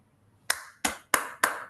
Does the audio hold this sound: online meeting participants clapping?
yes